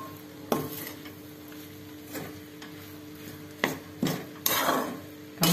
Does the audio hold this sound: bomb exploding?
no